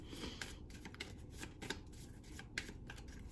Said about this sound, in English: this is just the majors here that I'm shuffling